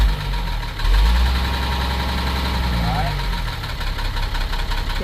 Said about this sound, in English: Rev it up a bit.